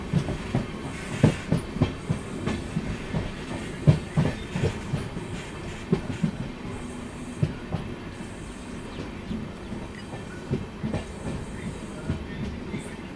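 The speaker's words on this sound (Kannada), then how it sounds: "ನಮ್ಮ ಟ್ರೈನ್ ಸದ್ಯಕ್ಕೆ ತಲುಪಿದೆ ಮಾನಮದುರೈ ಜಂಕ್ಷನ್ ರೈಲ್ವೆ ಸ್ಟೇಷನ್ಗೆ" A passenger train running on rails as it reaches Manamadurai Junction railway station gives a steady close rumble, broken by sharp, rhythmic wheel clatter over rail joints throughout.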